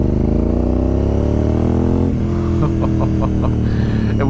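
A Honda RC51 SP2 V-twin motorcycle engine runs close by, its loud steady idle rising into a throaty rev with rhythmic pulsing pops near the end.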